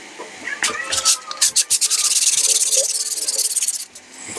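Hand sanding of a bajo quinto's wooden body with 80 grit sandpaper, a series of short rasping strokes that quicken into a fast rhythmic scrubbing, fairly close and moderately loud.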